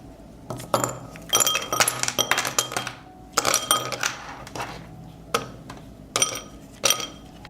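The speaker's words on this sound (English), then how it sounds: "I put ice cubes in a bowl." Frozen ice cubes tumble into a bowl at home, making close, bright clinks and clatters in irregular bursts with short pauses, and no one speaks.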